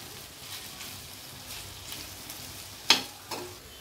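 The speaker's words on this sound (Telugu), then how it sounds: "బెండకాయ ముక్కలు కొద్దిగా మగ్గాక దానిలో ఇప్పుడు కొద్దిగా సాల్ట్ కారం కూడా వేసుకుని బాగా కలుపుకోవాలి" Okra pieces softening in a pan sizzle softly as salt and chili powder are stirred in. A steady low frying hiss runs throughout, with one sharp utensil clink and a smaller knock near the end.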